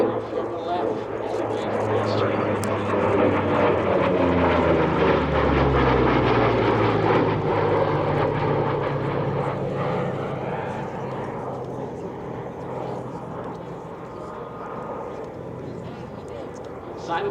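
A 1944 Flying Bulls P-38 Lightning twin-engine fighter roars past at an airshow, its propeller drone swelling loudly then slowly fading with a falling pitch, while a commentator talks over it throughout.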